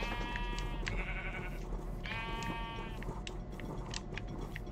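Sheep bleat twice in the Minecraft Java video game, two clear wavering cries about a second apart over a steady background hum, with faint clicks scattered after.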